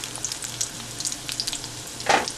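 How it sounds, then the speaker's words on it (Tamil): Chopped small shallots and curry leaves fry in oil for a tamarind okra curry, giving a close, steady sizzle with crackling pops and a louder spitting burst near the end. "இது வெட்டி வச்சுருக்க சின்ன வெங்காயத்தை போடுறேன். அப்புறம் இந்த கருவேப்பிலையும் போட்டுறேன்."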